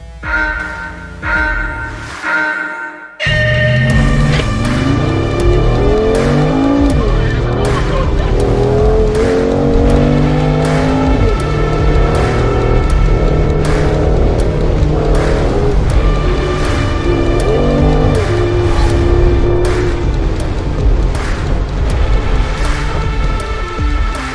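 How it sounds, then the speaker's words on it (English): A powerful Mercedes-AMG G63 V8 rumbles and roars continuously as it accelerates hard on an off-road course, with revs rising and falling and a voice faintly heard under the noise. "I've got that powerful rumbling exhaust"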